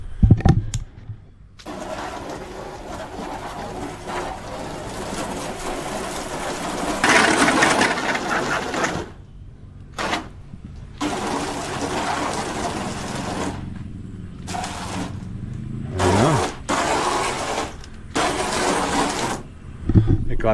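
A water blaster hoses cement off roof tiles, a loud hissing spray with a motor hum underneath that runs in long stretches and cuts out briefly several times.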